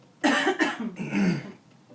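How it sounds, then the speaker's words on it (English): A single harsh, phlegmy smoker's cough bursting out loudly in a couple of rough hacks, close by, with no talking. "Smoker's cough."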